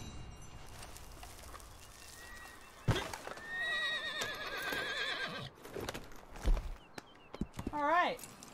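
A horse neighs with a long, wavering whinny in the middle and another short one near the end, mixed with scuffing hooves and footsteps close by, while a person talks in between.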